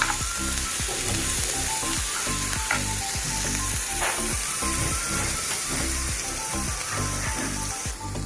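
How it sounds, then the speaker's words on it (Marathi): Onion roasts in a hot pan until golden, giving a loud, continuous close sizzle with a dense frying hiss and faint crackles throughout. "कांदा सुद्धा आपल्याला हे भाजूनच घ्यायचं आहे। थोडंसं गोल्डन झालं ना तर हे आपण काढून घेऊया।"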